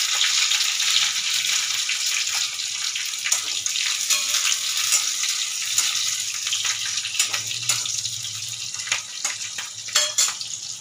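Black cumin, crushed garlic and green chili frying in hot mustard oil in a karahi, a steady close hiss of sizzling with light crackles and occasional stirring clinks, no talking.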